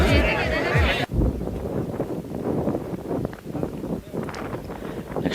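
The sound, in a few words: strong wind on a hilltop viewpoint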